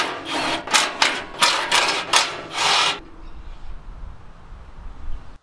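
A socket tool spins out 13mm bolts from the bottom bash plate under an Ironman bar on an NP300, giving several quick ratcheting bursts up close, then a quieter low rumble.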